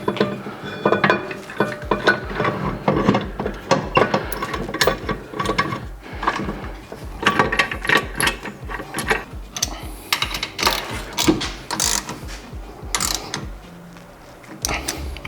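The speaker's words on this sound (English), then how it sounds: "Now let's see if the caliper will bolt on." A ratchet tightening bolts on an R35 rear brake caliper fitted to a Nissan S-chassis, with rapid clicking bursts repeating close up over fifteen seconds and occasional metallic knocks between them.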